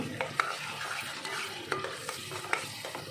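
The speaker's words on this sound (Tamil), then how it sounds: "இந்த ராஸ்மெல் போகிற அளவுக்கு நம்ம இதை வதக்கணும்" Mushroom and chickpea gravy being sautéed and stirred in a pan for street-style cooking, with a steady soft sizzle under a few sharp scrapes of a spoon against the metal, close and alone.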